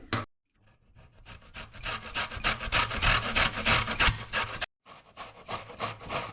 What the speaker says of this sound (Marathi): ह्याला आता आपल्याला बारीक किसून घ्यायचं आहे ते किसून घेऊया आपण